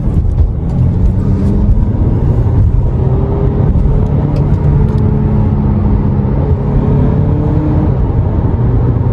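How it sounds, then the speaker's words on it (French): Audi A5 Sportback S-line, 190 hp, driven at night after a downshift into sport mode, a loud steady low engine drone with a rising whir heard from inside the cabin, no talk. "donc là je rétrograde. Voilà, donc là, je passe en mode sport."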